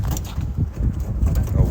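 Young squeaker pigeons calling from a backyard cage, producing soft low cooing and fluttering sounds close by amid general yard noise.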